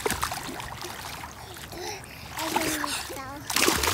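A child paddles their feet while learning to swim, sending up repeated splashes of water close by, with a voice and other talk over the sloshing.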